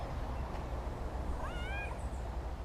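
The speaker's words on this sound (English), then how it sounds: "You a cave kitty?" A cat living in Window Cave, Puerto Rico, gives a single short rising meow, fairly faint against a steady low rumble of cave ambience.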